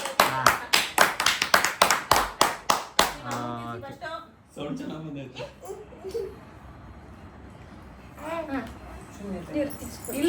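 Hands clapping at a family Mother's Day gathering, a quick run of sharp, close claps in a steady rhythm that stops partway, followed by people and children talking.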